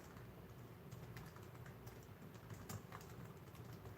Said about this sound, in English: I'll type that in here.